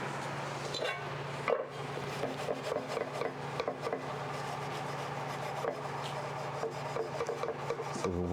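A Scotch-Brite abrasive pad scrubs an engine's front timing chain cover, producing a close, continuous rasping with quick back-and-forth strokes and a brief pause near the start, over a low steady hum.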